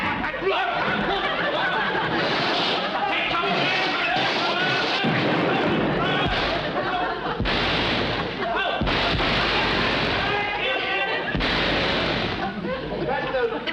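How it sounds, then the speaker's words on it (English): Fireworks go off in rapid succession, a dense, continuous barrage of loud bangs, crackles and booming bursts with almost no pause, and a few muffled voices underneath. "Fireworks going off after all these years."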